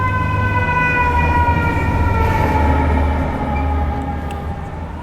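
Emergency vehicle siren wailing in Toronto city traffic along the Harbourfront, heard from a bicycle with steady road and wind noise underneath, sustained and fairly prominent throughout.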